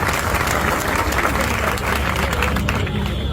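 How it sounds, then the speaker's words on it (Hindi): Loud, dense applause from a crowd at a public gathering in Mumbai, many hands clapping continuously and close, with faint crowd noise underneath. "आप अपने लिए तालियां बजाइए"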